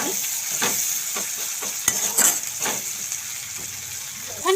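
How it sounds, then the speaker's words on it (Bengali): Onion, tomato and ginger sizzle in a pan for a spinach dal, a steady hiss of frying joined by several sharp scrapes and knocks of a stirring spoon, heard close and without talk. "এখানে দেখো পেঁয়াজ আর টমেটোটা দিয়ে দিয়েছি ভাজা ভাজা হচ্ছে"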